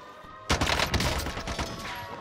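Enemy gunfire in Call of Duty Warzone on Rebirth Island, a sudden burst of rapid automatic shots, fairly close and loud, rattling on for under two seconds.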